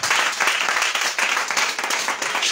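A church congregation claps and cheers in acclaim of Jesus, a dense, steady wash of applause lasting throughout with no gaps.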